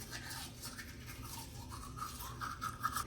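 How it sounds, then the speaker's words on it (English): Teeth are brushed with a toothbrush in quiet, rapid scrubbing strokes, a faint, close, rhythmic bristly rasp with no talking. "Get your toothbrush. This is how you do it."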